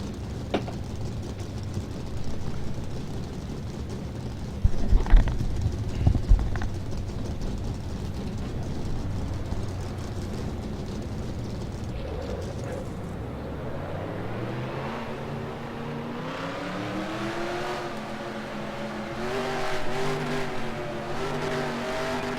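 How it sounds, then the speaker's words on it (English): NASCAR Racing 2003 stock car engines firing up and idling as a field, a low steady rumble with a few sharp bangs early on, then a rising multi-car revving drone that swells through the second half. "Drivers, start your engines."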